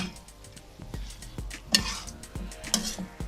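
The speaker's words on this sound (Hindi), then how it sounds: "ये जो साइडों पे लगता है ना ये ऐसे करके उतार देना।" A utensil scrapes and taps the sides of a pan of crispy sabooni halwa with pistachios and almonds, making sharp metallic knocks and clinks in an irregular rhythm at close range.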